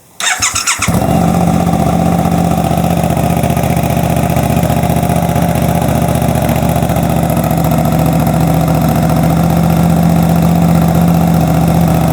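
A Suzuki GSX-8R with a full aftermarket exhaust and flashed ECU fires up from cold and settles into a loud, steady idle, a deep continuous engine drone right up close that runs unbroken to the end.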